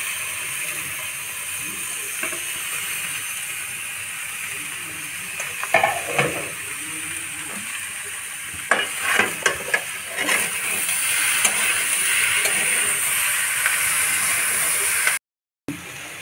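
Vegetables with salt, tomato and green peas sizzle and fry in a kadai for a winter vegetable dalia khichuri, a steady close hiss with stirring scrapes and clatters rising in the middle and later stretch.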